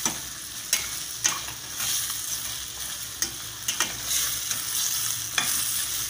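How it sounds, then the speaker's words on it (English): Chicken vegetable fried rice is stirred in a hot pan, with a steady sizzle broken by repeated scraping strokes of the spatula at an uneven rhythm. The sound is close and clear, and no one speaks. "Keep mixing."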